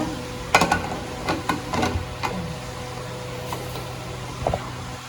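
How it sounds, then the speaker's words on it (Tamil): Mutton being stirred in a pan with salt and chilli powder: a run of scraping, clattering spoon strokes near the start, then quieter scrapes and a final clink over a low steady hum. "காரெல்லாம் போட்டு நல்லா மிக்ஸ் பண்ணிக்கோங்க"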